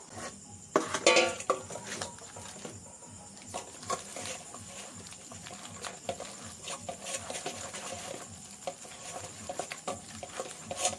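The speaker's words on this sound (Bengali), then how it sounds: "তাল চটকানো হয়ে গেছে, এবার তালটা আমি ঘষবো" Ripe sugar palm fruit pulp being grated by hand for sugar palm fritters: soft, steady scraping and rubbing strokes with occasional clinks of a metal utensil, faint and close, no talking.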